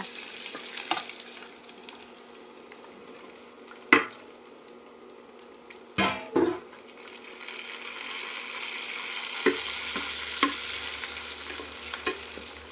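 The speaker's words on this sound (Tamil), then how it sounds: "இப்போ நல்லா பேஸ்ட்டு பதத்துக்கு வதக்கணுங்க" Tomatoes sautéing down to a paste in a pan for a village-style moong dal and beetroot kootu, a steady close sizzle under repeated scraping stirs and a few sharp utensil knocks against the pan.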